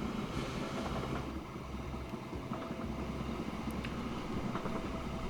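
A train in the Train Fever video game climbs an incline, a steady low rumble of wheels and engine running throughout with a few faint higher clicks, losing a little speed as it goes uphill.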